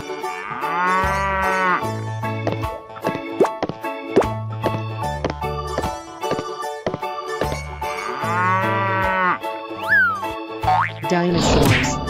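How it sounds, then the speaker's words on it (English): A cartoon cow moos several times in a funny animal transfiguration animation. The loud, drawn-out lows alternate with bouncy plops, boings and pops. "Cow."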